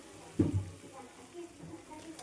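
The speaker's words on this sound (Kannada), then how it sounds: "ಸೊ ಹಾಕಿ ಚೆನ್ನಾಗಿ 1-2 ನಿಮಿಷ ಹಸಿ ವಾಸನೆ ಹೋಗೋವರೆಗೂ ಫ್ರೈ ಮಾಡಿ" Frying and stirring of capsicum, onion and tomato in a pan, a soft low sizzle with a brief scrape of the spoon, faint and close.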